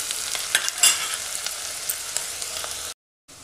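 Onions sautéing in a pan for a prawn sukka, a steady sizzling hiss with a few sharp spatula scrapes, close and fairly quiet, ending in a brief silence.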